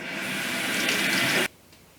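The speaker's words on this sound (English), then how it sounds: "I'm going to give my peas a rinse" Peas being rinsed under running tap water at a kitchen sink, a steady close hiss of flowing water that cuts off abruptly near the end, leaving quiet room tone.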